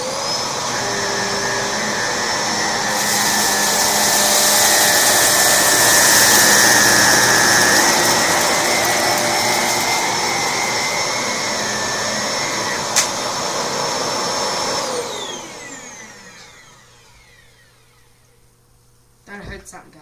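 An Electrolux vacuum cleaner runs with a loud, steady whine that rises and holds for about fifteen seconds, then spins down and fades near the end, with a brief click midway.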